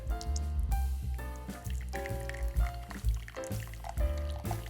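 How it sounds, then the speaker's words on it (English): Water is poured slowly into a drip coffee bag, a soft liquid trickle and splash alongside faint clinks of handling and indistinct speech. "We're going to pour some water into the bag."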